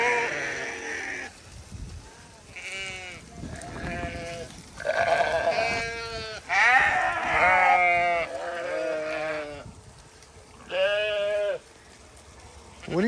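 A flock of sheep bleats in a spring pasture. Loud, wavering calls from several animals overlap, some close and some farther off, with short quiet gaps between them.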